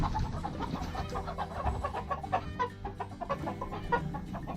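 About 200 chickens inside a small movable shed on an organic farm in Limousin, France, clucking and murmuring continuously, a busy, low, soft chatter filling the space.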